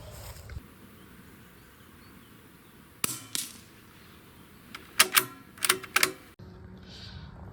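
A rifle fitted with a thermal scope fires at a paper rabbit target outdoors; a sharp report rings out, then a cluster of quick metallic clicks and clatters from bolt handling follow against a quiet background.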